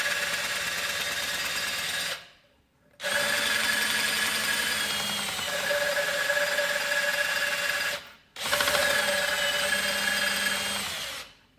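Intake valve on a small four-stroke engine cylinder head being lapped onto its seat with a suction-cup tool, a continuous gritty grinding scrape in long runs broken by two brief pauses, close and loud with no talk.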